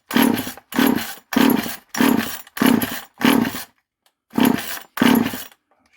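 A 1977 Poulan micro chainsaw, a barn find, is pull-started repeatedly: eight loud, rhythmic rasping pulls of the recoil cord, close up, with a short gap before the last two and no engine catching.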